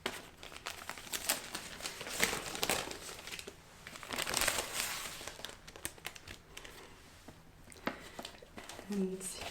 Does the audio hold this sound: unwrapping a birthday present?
yes